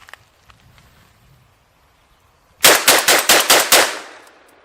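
Radikal NK-1 bullpup shotgun fired outdoors in a rapid string of six loud, sharp blasts, evenly spaced about a fifth of a second apart, after a near-silent lead-in.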